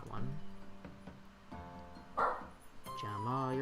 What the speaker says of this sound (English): 2 of the 3 are now barking, and my head cannot take it